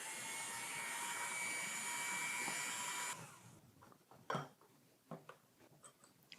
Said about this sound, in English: I advise to use a mixer, electric mixer, to make sure that the blend